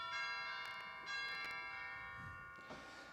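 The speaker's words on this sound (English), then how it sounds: "Chimes are just out of tune." Pipe organ chimes in a church sound as a run of bell-like tones, several struck notes ringing over one another with long, slightly out-of-tune sustained partials, quiet and resonant.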